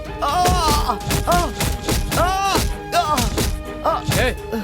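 A man is beaten in a dramatic fight scene: a run of heavy thuds and whacks lands in quick succession, mixed with loud shouting and pained vocal cries.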